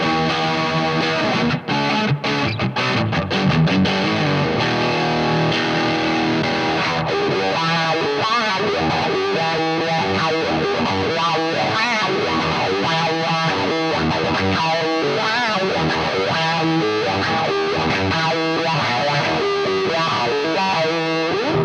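Electric guitar driven through a distortion channel, loud and sustained, with strummed chords and then busy riffing and lead lines that run unbroken throughout, no voices.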